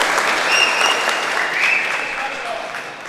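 Spectators at an adult softball handball final burst into sustained applause and cheering that holds steady for a few seconds, with commentators talking over the crowd.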